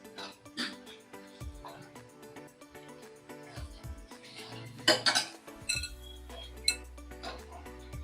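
Boiled corn kernels tipped into a pan of roasted masala for a Marathi corn curry and stirred in, with metal spoon scrapes and clinks against the pan, a couple of sharper knocks near the end.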